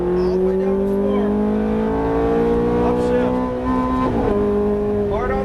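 A Ferrari F430 accelerates at full throttle on a track, its engine note climbing steadily and loud and close with a brief shift near the end, while an instructor talks throughout.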